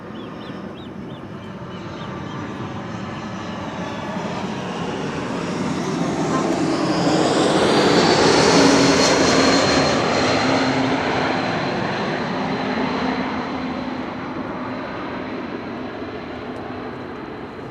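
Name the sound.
Boeing 787-9 Dreamliner airliner arriving at Schiphol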